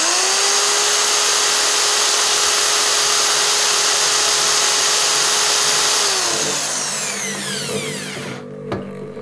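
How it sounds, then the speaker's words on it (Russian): An electric drill whirs at a steady high pitch, spinning a Chinese top, then winds down as it switches off, leaving a spinning, ringing decay. "Достаю дрель."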